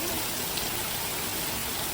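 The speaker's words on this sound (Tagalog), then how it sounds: "Umuulan na." Steady rain hisses evenly, a dense continuous wash of drops with no clear voices over it.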